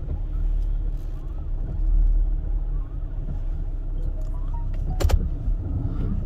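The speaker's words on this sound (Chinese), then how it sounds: "所以现在要倒车出去" A car reverses out of a curved roadside parking spot on a drive in Taiwan, its engine a steady low rumble throughout, with a brief sharp knock near the end and faint voices now and then.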